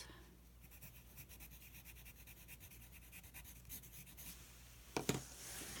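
Pencil marking watercolor paper for 2-inch circle ornaments: a soft, continuous scratchy graphite scribble close by, faint and steady, ending with a couple of sharper taps.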